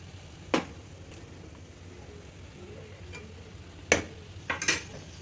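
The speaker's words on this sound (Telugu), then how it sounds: "చిన్నగా కట్ చేసుకున్న ఆలు ముక్కలు వేసుకోండి" Small cut potato pieces tipped into a pan of simmering tomato curry, giving a few short clattering drops and scrapes over a quiet, steady low sizzle.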